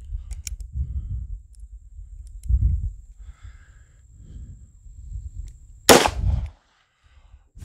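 A 4-inch barrel handgun fires a single Winchester 125 grain jacketed hollow point round: one sharp, loud crack that cuts through a low, rumbling background and then drops away.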